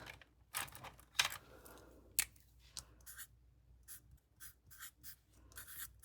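Pen writing on paper while cash envelopes are filled for a low-income savings challenge: soft scratchy strokes in short bursts, close and quiet, with no talking.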